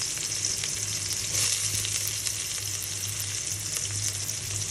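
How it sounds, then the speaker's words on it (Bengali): Chopped onions dropped into hot oil in a pan for a hilsa curry with plantain and eggplant, giving a steady, loud, continuous sizzle and crackle with no voices. "এখন আমি এর মধ্যে দিয়ে দিলাম পেঁয়াজ কুচি"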